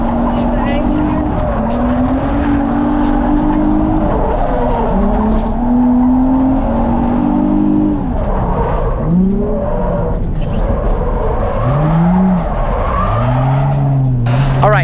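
A drift car at full throttle slides at high angle around a track, its engine screaming loud and close while tires squeal in long, rising and falling wails; a voice talks over the noise.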